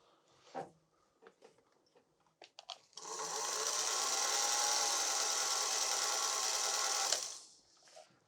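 A Singer Featherweight 221 sewing machine runs for about four seconds in one steady, loud whirring burst that follows a few faint clicks and handling taps, then stops abruptly.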